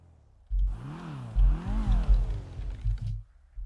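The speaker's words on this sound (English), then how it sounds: "Your engine loud and annoying." A car engine in the racing game RedlineRP revs up and down in repeated rising sweeps, loud and close, starting after a brief quiet moment and continuing with clattering mechanical noise.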